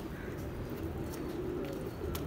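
Pigeons cooing softly near a net, with low murmuring coos over a steady background hum and a few faint higher chirps.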